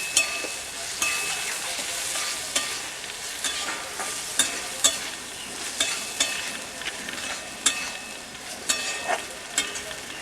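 Mustard paste with sugar and red chili powder cooking in a pan for a Bengali lentil dumpling curry, a soft, steady sizzle broken by regular sharp scrapes of a spoon stirring, close and without speech.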